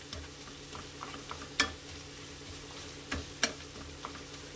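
Onions fry in ghee in a pan for a restaurant-style chicken chaap, giving a steady soft sizzle broken by a few sharp scraping clicks as they are stirred.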